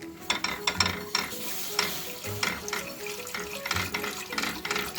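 Milk being stirred into toasted flour in a pot for a chicken-breast milk pudding, with continuous close scraping strokes of a spoon in a steady rhythm and a soft bubbling sizzle underneath.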